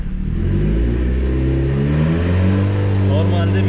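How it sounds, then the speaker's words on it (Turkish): A Seat Leon Cupra 2.0 TFSI engine, previously fixed for a cylinder 1 misfire, revs gently from a steady idle, its pitch rising in a smooth, close, loud hum. "Hafiften bir gaz vereyim."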